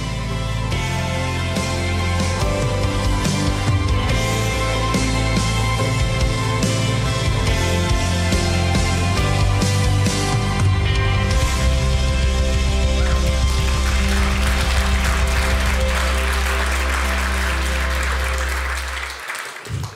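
Church congregation clapping through a sustained round of applause over loud music playing with a strong low bass line, continuous and dense until it cuts off near the end.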